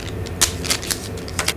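Chocolate bar pieces snapped off one by one after the wrapper is opened, giving several sharp, close crisp cracks spread across a quiet moment with no talking.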